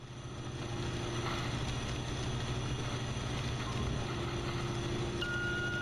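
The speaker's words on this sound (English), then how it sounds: "I gotta plug the Bitcoin miner in somewhere else." A Bitcoin miner in the game Voices of the Void runs loudly indoors, giving a constant, dense mechanical drone with steady tonal hum and fan-like hiss and no pauses. No voices are heard.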